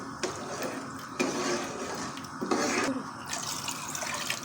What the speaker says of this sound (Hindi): इसमें चावल डाल के अब मैं इसमें पानी डाल रही हूँ ताकि ये गल जाए